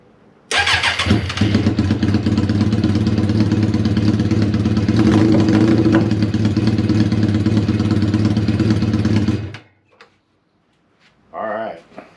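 Suzuki Katana motorcycle engine running with no exhaust fitted, a loud, raw, steady idle that fires up near the start, holds for about nine seconds, then cuts off, followed by a short burst of talk.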